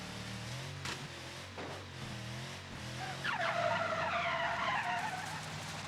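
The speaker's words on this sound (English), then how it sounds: "You're driving along and you hit the turbo boost and" A racing car in an arcade-style video game level surges forward on turbo boost, its engine note and tire squeal rising into a bright, sweeping whine over steady game ambience, with no talking.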